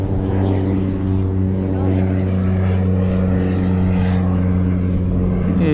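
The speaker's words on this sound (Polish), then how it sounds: "i już następny samolot startuje." A propeller airplane at a skydiving airfield in Castellón drones loudly and steadily nearby, its engine hum strong and constant as it takes off.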